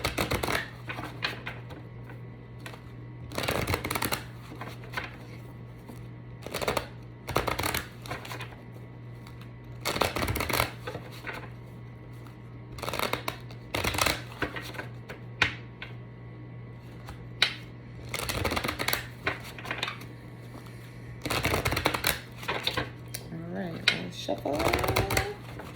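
Repeated bursts of cards being shuffled, riffling in quick clusters over a steady low hum, with a voice talking at times.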